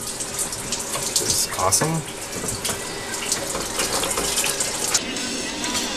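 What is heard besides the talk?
water draining from 2003 Tahoe engine after water pump removal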